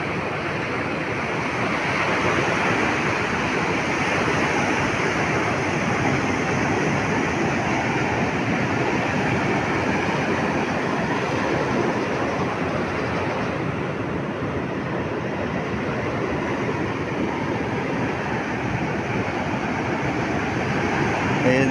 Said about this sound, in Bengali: এই যে 50 সমান ঢেউ আছে।